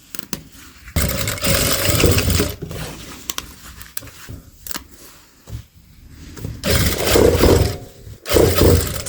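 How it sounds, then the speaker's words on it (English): A sewing machine stitches leather onto denim jeans in loud, close bursts of rapid mechanical whirring, separated by short pauses while the fabric is handled. "Sew one side of the leather to the lower leg section."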